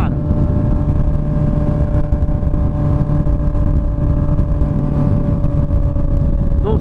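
A Honda CB 1000R motorcycle with a 4-into-1 exhaust runs loud and close, holding a steady, droning idle-to-mid revving note without pause.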